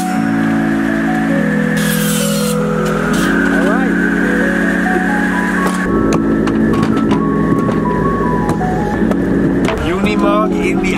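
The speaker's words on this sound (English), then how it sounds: "Drive the Unimog through the city to get pretzels" A Unimog truck drives through a German old town, its loud, close engine droning steadily while the pitch rises and falls with gear changes throughout.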